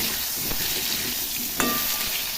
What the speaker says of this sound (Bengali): নুন হলুদ দিয়ে ভালো করে ভেজে নিচ্ছি, কুমড়োটাও ভেজে নিচ্ছি